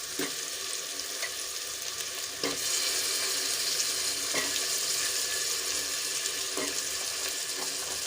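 Potato pieces tipped into a pan of softened frying tomatoes for aloo matar pulao, a steady bright sizzle with a few soft stirring knocks, close and continuous.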